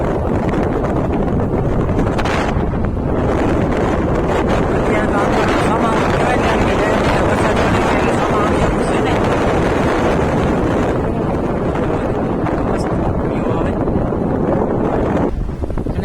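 Strong wind buffets the microphone at a hill station near the Shri Kamlai Shaktipeeth temple at Kadamgiri, Bhavnagar, a steady loud roar with gusty bursts that fills the whole stretch.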